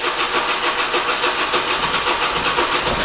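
A car engine cranks and catches after injector replacement, then runs with a loud, steady mid-pitched rumble and a fast rhythmic pulse close by, with no talking.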